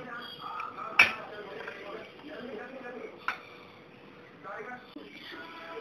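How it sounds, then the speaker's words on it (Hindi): Peanut powder stirred into gram flour in a bowl with a spoon, giving a few soft scrapes and two sharp metallic clinks while someone talks quietly in the background. "अब ये मूंगफली का पाउडर जो है हम इस बेसन में मिक्स करेंगे।"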